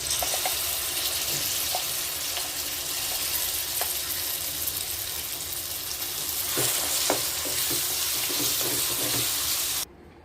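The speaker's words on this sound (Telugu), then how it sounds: "ఇప్పుడు పోపులన్నీ వేసుకుందాం." Mustard seeds, spices and curry leaves sizzle and crackle steadily in hot oil while being tempered for ponnaganti leaf chutney, with occasional stirring clinks, ending abruptly.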